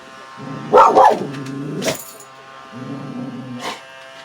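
A dog gives a few sharp barks close by, then falls quiet before a shorter bark-like yelp near the end.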